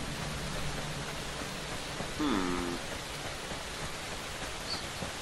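Rain in the video game Fear the Wolves, a steady hiss of rainfall filling the scene, with a brief tonal sound partway through and a short murmur from a voice.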